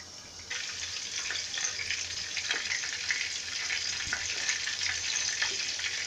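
Okoy vegetable fritters fry in a pan of oil with a steady, close hiss and crackle that runs evenly and alone.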